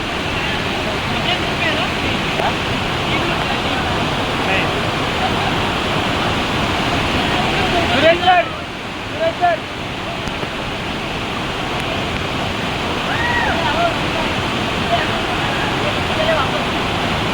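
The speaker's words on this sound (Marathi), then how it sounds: "तुम्ही एकदम जवळून धबधबा पाहू शकता" Steady roaring rush of the Palasdhari waterfall close by, near a temple with crowds, continuous and loud throughout, with faint voices briefly audible in the middle.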